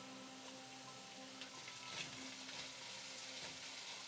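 Curry leaves dropped into hot oil for a Delhi-style vada pav filling crackle and sizzle in a pan, a close, quiet, steady frying hiss with small pops and no talking.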